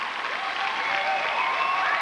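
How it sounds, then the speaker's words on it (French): Crowd at a live comedy show applauding, a steady wash of clapping from a full room that stays level and unbroken. "Je sens dans vos applaudissements"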